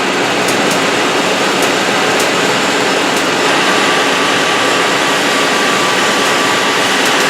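A Citizen M20V CNC Swiss lathe's sub spindle runs at speed, a loud, steady, broad mechanical whir with faint periodic ticks, continuous throughout with no talk.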